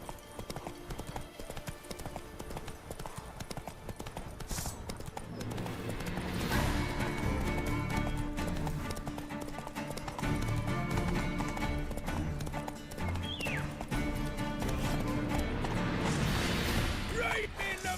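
Hooves clip-clop in a fast galloping rhythm as Geralt's horse Roach runs in The Witcher 3, close and loud throughout, with game sounds and a brief whinny-like cry mixed in.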